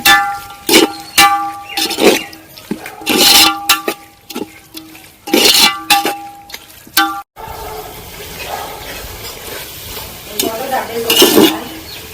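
Chicken and masala sautéing for chicken dum biryani: loud irregular metal clanks and scrapes of a ladle against the pot, with a quieter sizzling stretch in the second half.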